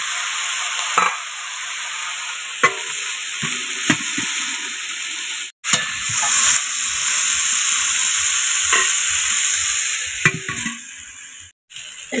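Eggplant topped with tomato fries in a wok with a loud, steady sizzle, broken by several scraping stirs of a spatula and brief clanks against the metal.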